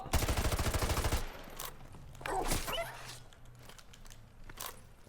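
In the video game Call of Duty Modern Warfare 2 Remastered, a dog barks amid gunfire. A rapid burst of machine-gun fire opens the sequence, then sharp bark-like yelps and scattered shots follow at moderate distance.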